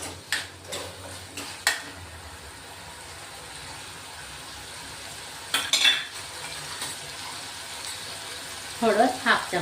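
Tomato, chili and garlic mixture cooking in a pan while being mashed, a soft steady sizzle with scattered scraping and tapping of the utensil, a few louder knocks near the end.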